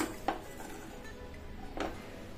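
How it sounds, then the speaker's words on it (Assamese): A kadhai is set down and handled on a kitchen counter, giving two faint metallic clanks about a second and a half apart against quiet room noise. "ইয়াত লৈছোঁ এটা কেৰাহী"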